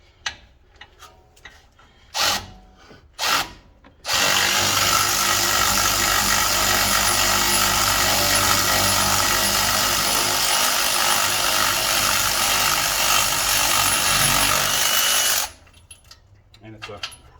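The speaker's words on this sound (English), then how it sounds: "I'm gonna switch over to the 1/2 inch Milwaukee here, just to get these out quicker." A 1/2 inch Milwaukee electric tool removing large brake bolts on a truck: a few short bursts first, then a loud continuous whirring grind lasting about eleven seconds before it cuts off.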